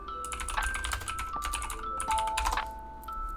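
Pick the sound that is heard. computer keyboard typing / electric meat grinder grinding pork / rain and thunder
computer keyboard typing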